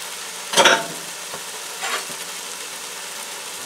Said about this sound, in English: Let's add our cabbage. This is a quarter of a cabbage, of a small cabbage, that I just cut up.